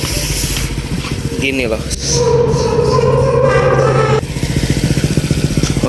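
A motorcycle fitted with a new Kaizo aftermarket exhaust idles and revs up close, and its loud, throaty pulsing swells for a couple of seconds before settling. Someone speaks briefly over it.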